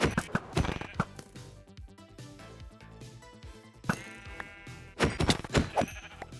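Sheep bleat in Minecraft, several short cries scattered among sharp hitting and chopping clicks, with bursts of game noise in between.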